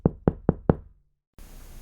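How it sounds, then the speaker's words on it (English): Four quick, evenly spaced knocks rap on a door, close and sharp, followed by a short silence. "there was a knock on his door"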